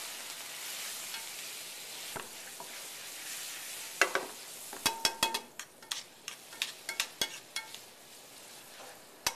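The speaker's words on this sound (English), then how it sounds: "So with our wine, we're going to deglaze." Mushrooms sizzle in a pan as wine is added to deglaze for chicken chasseur, a steady frying hiss broken by a run of sharp clinks and scrapes of a utensil against the pan, close and fairly loud.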